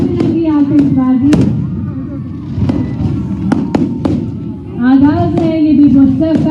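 Diwali fireworks and sparklers go off at a celebration in Bhopal, with sharp close cracks and bangs over a continuous loud crackle and a rising whistle. Voices and crowd noise mix in underneath.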